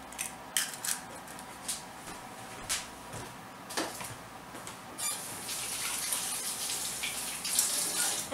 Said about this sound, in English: I like to wash my hands when I do eggs